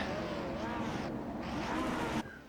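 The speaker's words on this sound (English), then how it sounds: "The drivers impatiently revving their engines." Race car engines rev impatiently on the grid at Watkins Glen ahead of a World Cup Championship race start, a dense sustained engine roar with rising and falling pitch, loud throughout and cutting off near the end, with commentary talk underneath.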